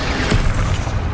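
A deep, booming Bombarda spell explosion in Hogwarts Legacy, a loud, dense rumble that fills the whole short moment without a break.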